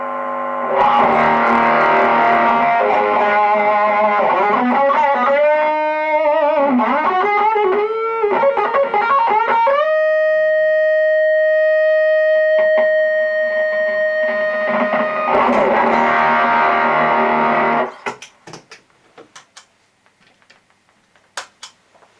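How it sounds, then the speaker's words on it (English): Electric guitar driven through four stacked boutique clone overdrive pedals all at once, loud and saturated, with thick distorted chords and bends giving way to a long sustained feedback-like note before it cuts off abruptly to near silence. "let's go crazy and put all the 4 drive pedals on at the same time"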